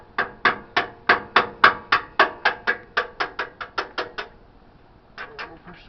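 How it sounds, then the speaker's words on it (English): A hammer strikes metal on the front suspension of a 2001 Toyota Tundra, about sixteen quick, evenly spaced, ringing taps, then a pause and two or three more. The blows are close and sharp. "you may have to get a hammer, tap on it a little bit."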